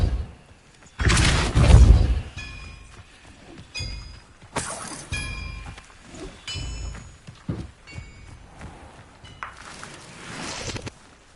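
Hogwarts Legacy gameplay features magical spell effects, including the Depulso spell: several loud bursts and shattering crashes mixed with chiming, tinkling tones and scattered thuds, spaced irregularly with quieter gaps between them.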